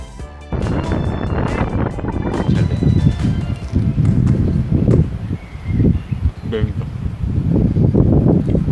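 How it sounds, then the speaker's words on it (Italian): Strong wind blusters across the microphone during a countryside bicycle ride, a loud, continuous low roar rising and falling in gusts, with a person talking over it. "Oggi è una giornata ventosa"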